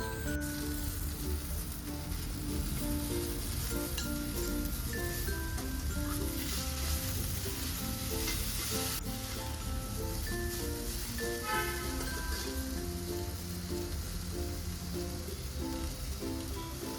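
Washed fresh mint leaves sauté in hot oil for a pudhina chutney, giving a steady, continuous sizzle and crackle at moderate level throughout, with faint tonal sounds underneath.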